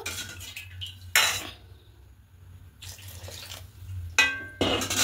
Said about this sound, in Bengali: আর বেশি জল দেব না, আর একটুখানি দেব।